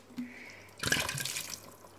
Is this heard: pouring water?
yes